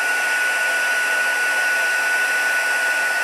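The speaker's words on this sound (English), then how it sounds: "at least my heat tool's quite warm now" A handheld crafting heat tool blows hot air with a steady, even whoosh and a thin constant whine, close and unbroken for a few seconds, no talking.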